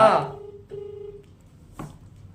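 A brief voice gives way to a steady electronic phone tone that stops and repeats, followed by a short click, heard quietly and close.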